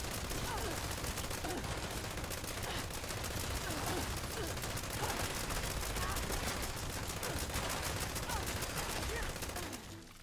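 Rapid, continuous gunfire from the video game Fallout 76, dense volleys of shots running steadily for about ten seconds with faint talk underneath before tapering off at the end.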